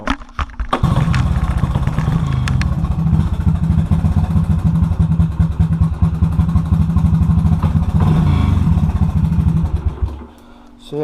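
A small 110 dirt bike with a pull start and a freshly oiled chain idles loudly and close, with a steady throbbing putter. It cuts off near the end, leaving quiet.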